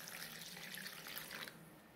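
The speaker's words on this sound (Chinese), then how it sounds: "往揉好的面团当中倒入清水" Clear water pours onto kneaded wheat dough, a faint, close splashing trickle lasting about a second and a half before stopping abruptly.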